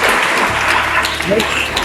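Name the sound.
audience applause for a school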